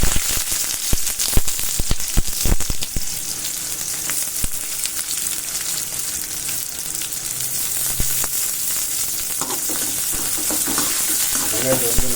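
Onions sauté in hot oil after mustard seeds for a chow chow kootu, giving a loud, constant sizzle with clusters of quick pops and a few stirring scrapes.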